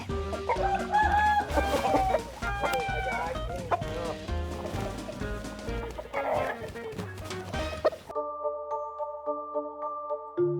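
Chickens in a Thai rural setting cluck and crow loudly amid a dense, busy mix of other sounds, then the last few seconds give way to a steady tonal pattern.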